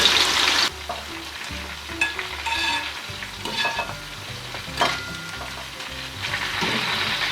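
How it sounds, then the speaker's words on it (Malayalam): Onions frying in hot oil for a vegetable dum biryani give off a steady, fairly loud sizzle, broken by occasional scraping stirs, with no talking over it. "അത് ഫസ്റ്റ് ഒന്ന് ഒനിയൻ ഫ്രൈ ആക്കി എടുക്കാം."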